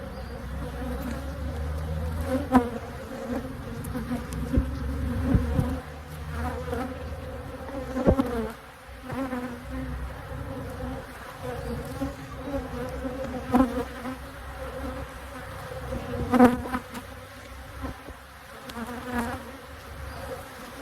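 Honey bees buzzing around an opened hive during an inspection, a steady droning swarm hum with individual bees zipping close past, plus occasional soft knocks and handling noises.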